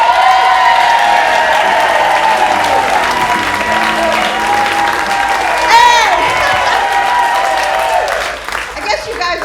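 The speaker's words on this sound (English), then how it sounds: "How about a big round of applause for Max McGee?" A comedy club audience claps for a comedian, with dense sustained applause and scattered cheers and whoops close by, fading near the end.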